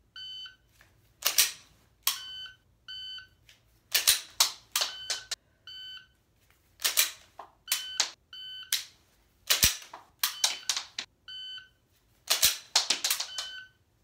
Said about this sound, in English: So I'll just rack the gun and keep moving.